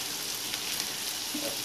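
Tomatoes and curry leaves fry in a pan for egg kulambu, giving a steady close sizzle that holds evenly throughout, with no talking.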